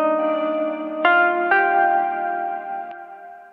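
An instrument track in a mix of a song, treated with a Valhalla eighth-note delay: sustained bell-like tones with new notes struck twice, ringing on with repeating echoes that fade out, close and alone.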